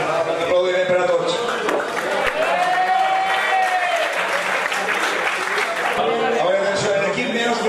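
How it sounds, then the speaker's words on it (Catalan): A banquet room of guests at a veterans' football league end-of-season dinner claps loudly and continuously for several seconds, a dense wash of hands with murmured voices underneath. "Aplaudiment per a tots."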